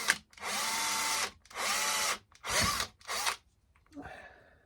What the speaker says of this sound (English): what we're going to do is just drill to get a hole started